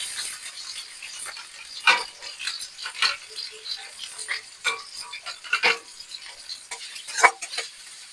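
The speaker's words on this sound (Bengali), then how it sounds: "এক এক করে এবার সব সবজিগুলো ভেজে নিই গাজর আর বিনসটা ভেজে নিই" Carrots and beans fry in a pan while a spatula clatters and scrapes in irregular bursts over a faint, steady sizzle, close up with no talking.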